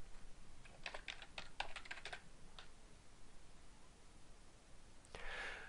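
Quick bursts of typing on a computer keyboard, a cluster of crisp clicks and keystrokes that tapers into a faint pause before a brief final rustle, quiet and close with no voices.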